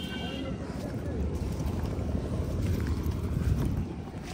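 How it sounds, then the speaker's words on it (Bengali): A fishing trawler on a river beside the Sundarbans, its steady low engine rumble and wind noise running continuously, with faint voices in the background. "ওই যে আমাদের ট্রলার।"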